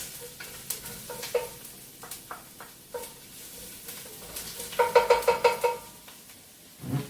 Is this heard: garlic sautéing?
yes